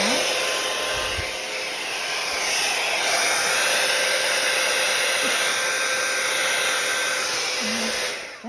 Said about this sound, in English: get out my little pinky dryer